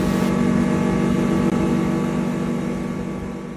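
A speedboat's motor roars at a constant pitch during a river ride, close and loud, then eases slightly toward the end, with no speech.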